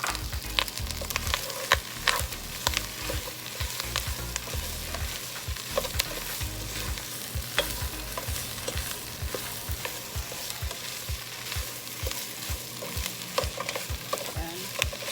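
Pork menudo with hotdog sizzles steadily in a pan while a utensil stirs it, adding repeated sharp scraping clicks and taps on top of the constant frying crackle, close up and with no voices.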